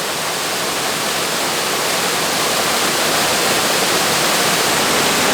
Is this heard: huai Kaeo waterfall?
yes